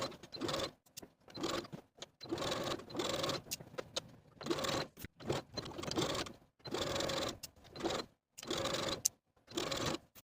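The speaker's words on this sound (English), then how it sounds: "we're going to stitch in the ditch of the seam line from one side to the other for both front yokes" Domestic sewing machine stitching in the ditch along a blouse yoke seam, running in quick bursts of rapid mechanical whirring separated by short pauses, close and fairly quiet.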